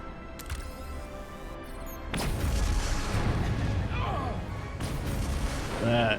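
A detonated charge explodes in Star Trek: Resurgence, a loud sudden blast followed by a long rumbling roar with crackling debris and a second swell near the end, under game sounds.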